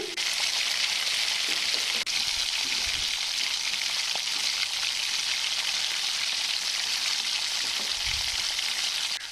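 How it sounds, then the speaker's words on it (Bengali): Pieces of pointed gourd fry in a pan with a steady, even sizzle throughout, broken by an occasional faint knock. "পটলের এক পিঠ কিন্তু খুব ভালোভাবে ভাজা হয়ে গেছে"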